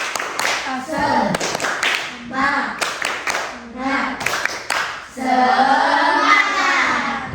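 A classroom of students doing a rhythmic spirit clap, sharp group claps in a patterned beat mixed with children's chanting voices, loud and close, ending in a sustained shout.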